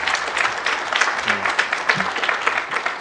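A conference audience breaks into applause for an event organizer, a dense, steady round of clapping that carries on evenly without a break.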